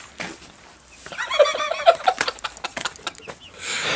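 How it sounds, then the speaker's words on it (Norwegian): Chickens cluck in short, irregular bursts across a few seconds, fairly close and moderately loud, with a broad rustling background. "De er bare kyllinger."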